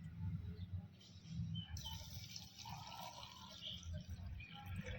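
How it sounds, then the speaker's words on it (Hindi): Water is poured onto loose tea leaves in a container, giving a soft, steady liquid trickle with faint dripping against quiet room background. "तो आप 200 ग्राम 200 ml जैसे पानी डालोगे इसमें"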